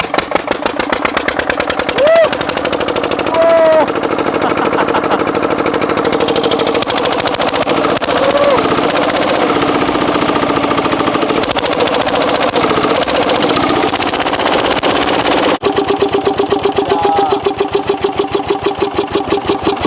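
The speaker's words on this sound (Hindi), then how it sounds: "इसका जो साउंड है बिना इसके साइलेंसर के वो बहुत ज़्यादा तेज है। मतलब खट खट खट खट होने लग रहा है" Hand-started diesel engine running without its silencer, a very loud, close, rapid knocking exhaust beat that stays steady for the whole stretch with a brief dip near the end.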